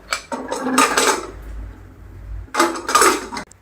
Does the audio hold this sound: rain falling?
no